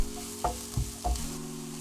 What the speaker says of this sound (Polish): i zaczynamy smażyć od cebuli